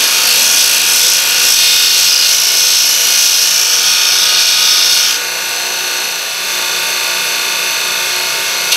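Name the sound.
belt sander grinding motorcycle handlebars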